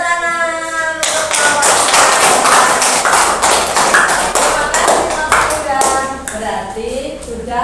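A short round of clapping from a small group bursts in after a voice, lasting several seconds before speech resumes.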